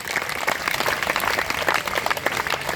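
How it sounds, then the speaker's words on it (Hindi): A school audience claps for a donor family at a principal's address at Dhaba government school, with dense steady applause filling the whole stretch without a break. "तालियां लगा दो इनके"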